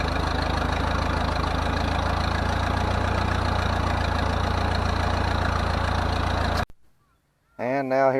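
A tractor plowing a potato field runs as a steady, loud, rumbling engine drone for most of the stretch, then cuts off abruptly into near silence before a voice briefly starts up.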